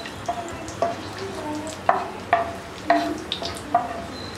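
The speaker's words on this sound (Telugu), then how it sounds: "కిస్మిస్లు కూడా దోరగా వేయించుకున్నాము" Raisins frying golden in a pan of ghee for carrot halwa, with soft scattered sizzling and a handful of sharp spatula scrapes and taps against the pan at steady intervals, close and moderately loud, no voices.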